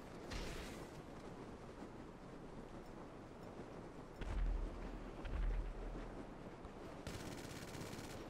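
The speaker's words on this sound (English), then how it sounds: "Machine gun." Machine gun fire in GTA Online's Import Export content, heard as rapid bursts and heavy low booms rising over a dense game soundscape, fairly quiet overall.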